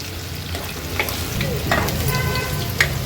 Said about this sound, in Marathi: लसणाचा थोडा कलर चेंज होईपर्यंत ह्याला तेलावर आपण परतून घेणार आहोत